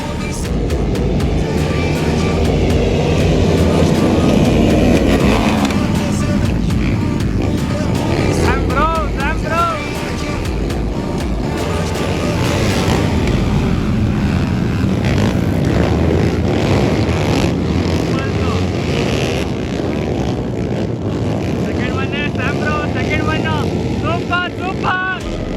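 Dirt bikes roar off the line at the start of a dirt race in Mysore, a dense, continuous engine din with rising revs throughout, voices talking over the noise.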